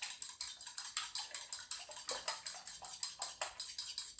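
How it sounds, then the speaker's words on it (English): Eggs whisked in a bowl for air fryer corn dog batter, a quick steady rhythm of light metallic ticks and clinks, about four strokes per second, close and fairly quiet with no talking. "So I'm whisking my eggs."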